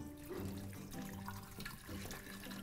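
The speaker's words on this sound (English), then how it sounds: "Now you fill this up with water." Water pours into the reservoir of a Keurig K-Cafe coffee maker, a soft, close trickle and splash with faint gurgling that runs for a couple of seconds.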